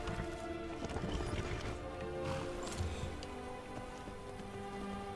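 Horse hooves clip-clop in a steady rhythm in the video game Skyrim, heard amid rain-like ambient noise and a dense background wash.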